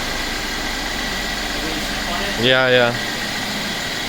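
A Mercedes E350 with the M276 engine idles steadily up close after an ignition coil change, a smooth continuous hum; someone speaks briefly over it.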